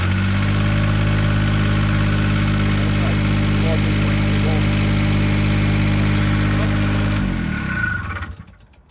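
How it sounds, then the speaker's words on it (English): Diesel engine of a Niftylift HR15 access platform idling steadily and loudly up close, a constant low drone that runs for about seven seconds before the engine is shut off and winds down to silence. "So let's start the engine."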